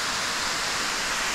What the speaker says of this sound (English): I didn't know there was another waterfall.